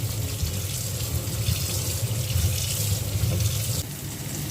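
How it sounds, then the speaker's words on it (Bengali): Running tap water pouring steadily into a sink while boiled dried fish is rinsed, a constant close splashing rush with no talk. "আবারও পানি দিয়ে একটু ধুয়ে নিব শুটকিগুলো।"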